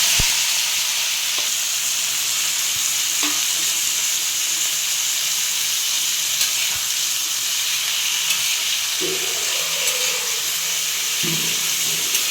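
Round slices of bitter gourd frying on a flat griddle in a cumin, mustard seed and garlic tempering, a steady loud sizzle and hiss with a few soft stirring clinks.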